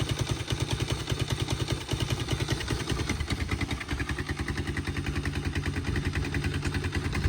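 A carburetted Suzuki Djebel 200 motorcycle engine idles steadily and quietly up close, its even low putter running throughout with a light mechanical clatter.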